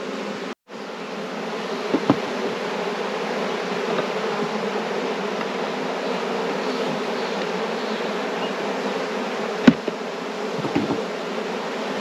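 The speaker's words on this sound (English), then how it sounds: "Some of the bees are back up there that took off flying in the air." A honey bee swarm buzzes steadily as bees fly in the air around a hive being caught, a dense continuous drone close by with no talking.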